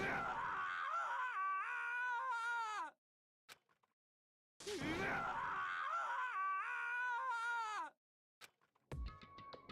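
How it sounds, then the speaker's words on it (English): Taka screams in anguish in Danganronpa, two long wailing cries with wavering pitch, each about three seconds, separated by silence and followed by short, faint noises. "As Taka's sad screams invaded our skulls"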